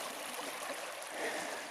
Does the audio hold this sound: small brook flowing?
yes